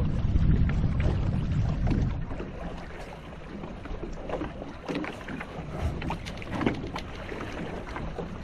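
A sailboat carrying passengers off Po Toi Island, moving through water in the wind, with continuous rushing water and gusty wind noise, heavier at the start and steady throughout.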